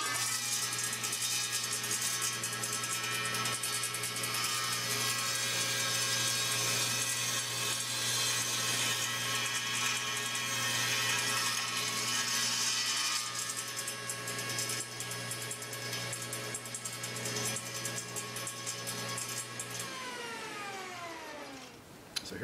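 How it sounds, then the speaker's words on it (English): Table saw slicing through a tenor guitar blank clamped to a jig, a steady loud whine holding for about twenty seconds before the blade spins down and the motor winds off. "I'm ready to make that cut on the table saw"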